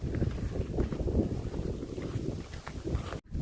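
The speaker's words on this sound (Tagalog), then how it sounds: "Ang lakas ng hangin, oh." Strong wind buffets the microphone with a constant low rumbling roar, briefly dropping out near the end.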